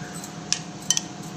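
A spoon clinks lightly against a bowl while cucumber and carrot salad is tossed, a few short sharp taps over a quiet kitchen background.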